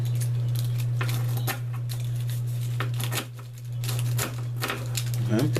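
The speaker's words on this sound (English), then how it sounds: "I got a pair of kitchen shears. Just go ahead and cut that there" Kitchen shears snip through dry cattail leaves in a series of crisp, close cuts, with rustling handling of the leaves between them and a steady low hum behind.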